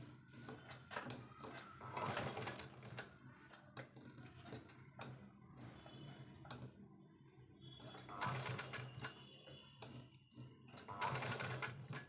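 A sewing machine stitches fine pleats on a baby frock in several quiet bursts of rapid mechanical whirring, with pauses and light clicks between the runs.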